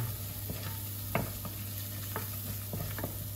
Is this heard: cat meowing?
no